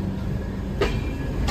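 Inside the moving Visakhapatnam–Mahbubnagar Express, a steady low rumble of the carriage fills the background, with a couple of faint rail clacks passing beneath it and no talking.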